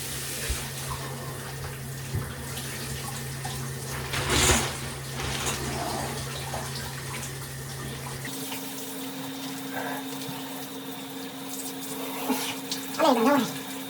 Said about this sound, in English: We're about to take a cold shower.